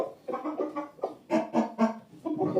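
A Shamo fighting rooster clucks in short bursts close by, a choppy series of throaty calls with brief gaps between them.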